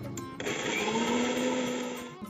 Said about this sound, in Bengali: এখন মিক্সারে পেস্ট করে নিচ্ছি।